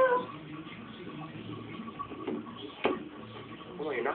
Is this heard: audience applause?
no